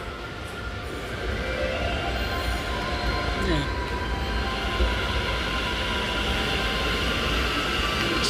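Steady rumble of a train carriage in motion on a New Taipei rail line, a continuous low rolling drone with faint wheel and track noise throughout, heard from inside the car.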